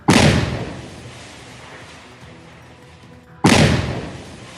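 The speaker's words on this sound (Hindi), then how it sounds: "सुरक्षा बलों ने लश्कर-ए-तैयबा के आतंकी फारूक अहमद के घर को ब्लास्ट कर 3 सेकंड में उड़ा दिया था" Security forces blasting a militant's house in Kupwara, Kashmir: a loud, close boom with a long rumbling decay, then a second sharp blast a few seconds later.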